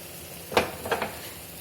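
Fried rice and pointed gourd tipped into a pan with cashew paste and stirred, giving two short scraping, sizzling bursts close up over a faint steady background hiss.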